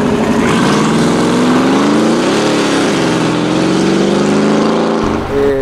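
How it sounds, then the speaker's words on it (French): Loud, close engine note from a Mercedes G700 Brabus AMG, a deep droning rumble whose pitch swells and wavers as the revs rise and fall, ending with a brief dip. "c'est vraiment le bruit AMG que tu as mis"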